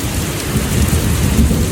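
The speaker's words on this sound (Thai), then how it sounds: "เอาบรรยากาศมาให้ทุกคนดู ว่าที่เมืองโคลนเดียมมีนะคะฝนตก" Heavy rain pours down steadily during a thunderstorm in a Cologne spring storm, with a dense, loud wash of rainfall and low rumbling thunder throughout.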